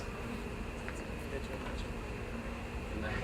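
A steady, dense buzzing of many honeybees fanning pheromone on a cage fills the scene, continuous and close, with faint voices in the background.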